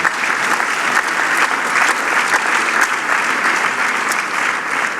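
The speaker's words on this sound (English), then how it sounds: "I think that deserves a big round of applause, ladies and gentlemen." A conference audience at the Toronto Global Forum 2019 gives a round of applause, sustained, even clapping from many hands that fills the whole stretch at a fairly close, loud level.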